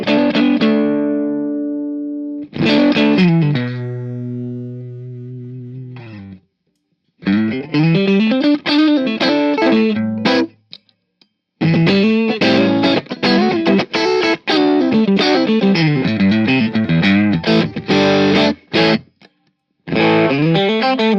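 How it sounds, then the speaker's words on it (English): Heavily overdriven electric guitar through a Bad Cat Hot Cat 45W EL34 tube amp head, clean channel with gain fully up, into a 2x12 cabinet, plays sustained chords and choppy riffs, loud and gritty, with brief pauses and no voices. "let's show you what the gain sounds like all the way up on the clean channel"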